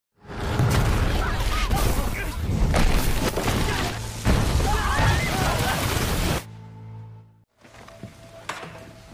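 A loud, sustained explosive roar with crackling debris and rumbling in a zombie film, cutting off abruptly into a quieter low hum.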